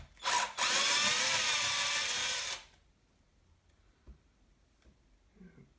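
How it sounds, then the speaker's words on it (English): A power driver spins screws out of the bottom of a Team Corally 1/8 RC car chassis in one loud whirring burst of about two seconds, followed by quiet handling with faint clicks. "Kind of flying blind, taking screws out of the bottom of the chassis here."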